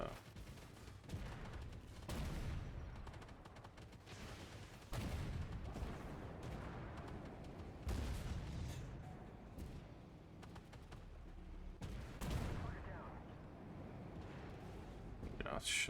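Tank cannon fire and battle explosions from the video game World of Tanks, played with a Tier 7 premium Arjun MK.IA, boom out as several heavy blasts spaced a few seconds apart over constant background game noise.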